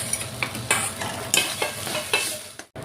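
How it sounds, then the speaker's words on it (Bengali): Chopped taro leaves are stirred and fried in a wok, with steady sizzling broken by repeated scraping strokes of a spatula against the pan, close and clear, with no voices. "ভালো করে নাড়াচাড়া করে নামিয়ে নিব"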